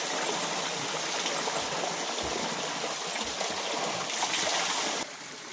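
Water flowing in a natural stream or spring, a steady broadband rush running throughout at close range with no voices, then dropping slightly quieter near the end.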